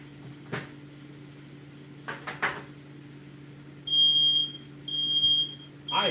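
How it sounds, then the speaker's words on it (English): A smoke alarm in a home kitchen emits three sharp high-pitched beeps in a row, heard alone over a low steady hum with a few faint clunks beforehand. "I didn't even know we had smoke alarm here."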